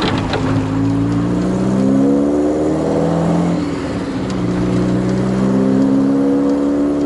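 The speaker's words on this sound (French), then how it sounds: "Là, on est redescendu à 850 tours, mais des fois, il monte à 1000." A Volkswagen Scirocco engine at a track pit lane swings between idle and revs, the pitch climbing, dropping back near the middle, then rising again, loud and close with no voices.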